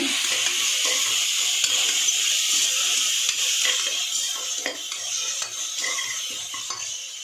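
Mint leaves and two green chillies frying in hot oil while being stirred, a steady close sizzle with repeated scrapes and clinks of a spoon against the pan throughout, no voices.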